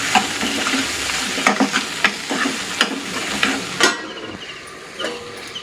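Tomatoes fry in a pan with salt and turmeric for a dried red chilli and rice curry, with steady sizzling and several sharp scrapes and clinks of a spoon stirring, close and alone without talk.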